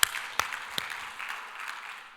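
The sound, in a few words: church congregation applause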